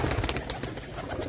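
Pigeons cooing at a rooftop pigeon house, soft repeated low coos close by over a busy background of bird noise, with no talking.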